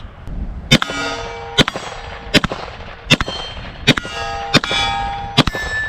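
Rifle bullets striking a steel silhouette target at the range, heard as seven sharp, loud metallic clangs that ring out briefly, spaced under a second apart.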